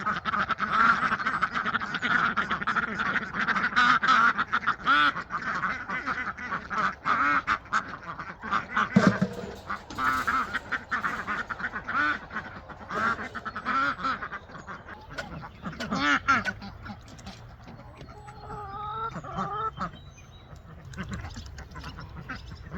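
Ducks being let out of a farm barn quack busily in a noisy, overlapping chorus, loud at first and thinning later, with some other farm animal calls mixed in.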